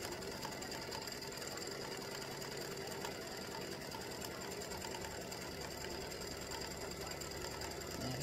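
An embroidery machine stitches a wide satin stitch around a baseball glove applique, a steady, fast mechanical whirring that runs without a break at moderate volume.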